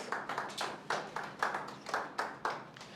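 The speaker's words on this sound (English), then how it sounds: "Please, a round of applause for yourselves." Applause from a Creative Mornings audience in Lagos, heard as a quiet, steady, rhythmic clapping of fairly distant hands keeping an even beat for a few seconds.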